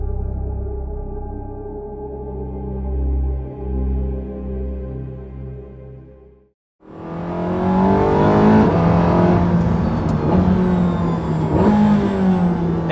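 A Porsche 918 Spyder hybrid hypercar under way: a low, steady tonal drone gives way after a brief dip to a loud, dense engine roar, revving and climbing in pitch close up.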